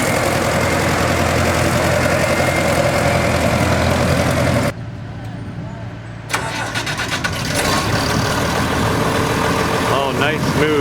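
A 1969 International Custom 756 tractor engine runs loud and steady at close range, briefly dropping in level before surging back; a voice talks over the engine.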